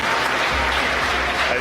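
A crowd applauds and cheers after a Dragon spacecraft deploys into orbit, a dense wash of clapping heard at a distance and holding steady throughout.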